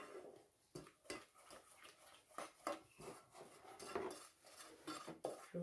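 Chocolate cake batter being stirred in a large saucepan, heard as faint, close scraping and knocking of a utensil against the pan in an irregular rhythm.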